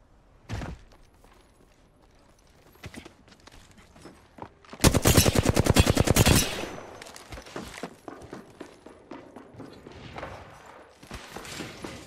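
Gunfire in the Apex Legends video game: a few scattered single shots, then a loud rapid automatic burst lasting over a second, followed by more sporadic shots and clatter.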